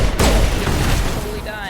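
A point-blank pistol shot in the video game Mass Effect gives a sharp, booming report followed by a rumbling tail and game effects, loud and close.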